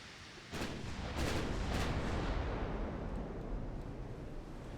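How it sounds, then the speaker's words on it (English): An 8-inch naval gun salvo fires in the warship game Ultimate Admiral Dreadnoughts, a deep booming blast followed by several quick cracks and a long rumbling roar that fades slowly. "here comes, that's an 8-inch fire."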